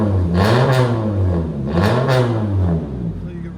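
A 2024 Honda Civic Sport 2.0L with straight pipes revs up loudly twice, each rising rasp falling back, close and rough with a clattery edge.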